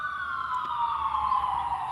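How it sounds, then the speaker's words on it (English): Police siren wailing at a distance on a morning street walk, a steady sustained tone slowly sliding downward, moderately faint, with no talking over it. "those sirens are not for me"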